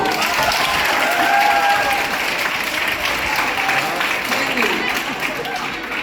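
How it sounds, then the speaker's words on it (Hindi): Seminar audience clapping in a hall, a sustained wave of applause with crowd murmur and some voices mixed in, fairly loud and continuous. "ये तालियां आपने किसके लिए बजाई है?"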